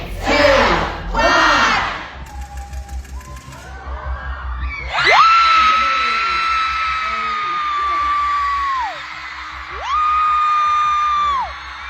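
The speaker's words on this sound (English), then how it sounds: "I think that has to be the loudest crowd reaction." A live show audience in Boston erupts in loud screaming and cheering after a countdown, with shrill sustained whoops and yells filling the space close and intense, fading briefly then surging again.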